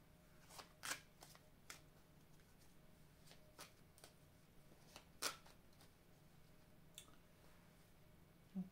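Tarot cards are gathered and shuffled in soft, quiet riffles and taps, sparse and close, with long stretches of near-silence between the faint snaps.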